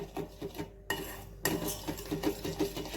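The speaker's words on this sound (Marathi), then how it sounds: "गॅस लावल्यानंतर हे कंटिन्युअसली आपल्याला ढवळत राहायचं आहे." A spoon stirs a small amount of boiling sugar syrup for batasha in a pan on the gas, giving quiet repeated scraping and clinking strokes, with a short break partway through.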